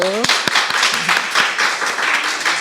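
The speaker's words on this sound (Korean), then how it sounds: "감사와 격려의 박수" A room full of people applauding at a Korean church worship service, steady dense clapping throughout, with a voice briefly heard at the start.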